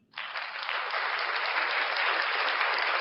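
A canned applause sound effect: dense, steady clapping that starts abruptly and holds at an even, fairly loud level throughout, with no talking over it.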